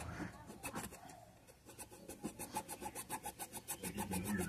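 A soldering iron bit is rubbed clean with a rasp in quick, repeated scraping strokes, faint and close. The strokes start uneven and settle into a fast, regular back-and-forth rhythm.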